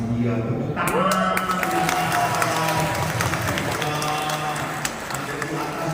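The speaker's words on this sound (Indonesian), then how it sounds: "Yang atas paling setia, tepuk tangan." A crowd breaks into clapping and cheering that swells and then continues steadily, with voices mixed in over the applause.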